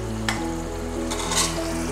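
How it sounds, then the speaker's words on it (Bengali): Ginger paste frying in hot oil for a Bengali chicken curry, giving a steady close sizzle with a few brief sharper spits and bursts and no voices. "ভালোভাবে আদাটা ভাজা ভাজা হয়ে গেলে"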